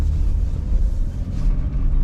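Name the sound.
old Jeep engine rumbling while driving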